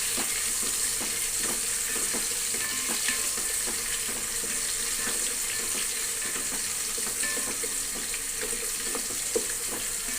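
Sliced onions fry and sizzle in a pan for a cauliflower curry and bagara rice, with a steady hiss throughout and scattered clicks of stirring close by, no voices.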